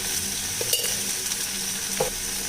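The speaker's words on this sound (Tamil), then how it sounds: "இப்போ இந்த தக்காளி ஒரு 2 நிமிஷம் வதக்கியிருக்கேங்க." Chopped tomatoes frying in a pan for a tomato kurma, with soft continuous sizzling and a couple of brief stirring scrapes of a spoon against the pan.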